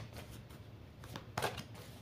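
A deck of playing cards being shuffled slowly and unhurriedly, giving a few soft riffling bursts at close range, the last one fullest, over a quiet room.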